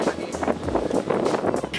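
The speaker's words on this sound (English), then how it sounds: "it is abnormally windy" Strong, unusually gusty outdoor wind buffets the microphone, a rough low rumble with shifting gusts that fills the short moment without a break.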